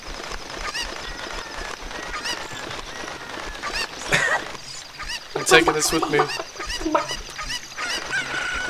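A chicken clucks and squawks in the video game Ocarina of Time, with several sharp, loud bursts breaking through a player's casual talking and game sounds.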